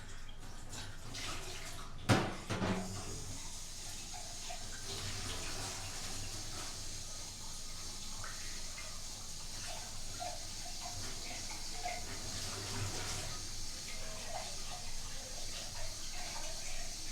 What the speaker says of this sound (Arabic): نغسل البراد الاول